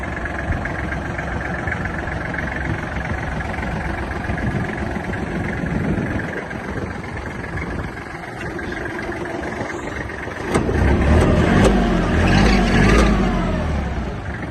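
Kubota Grendel GL-19 Japanese tractor fitted with a three-point hitch, its engine running steadily with a low rumbling idle, growing louder and heavier toward the end as it revs up nearby.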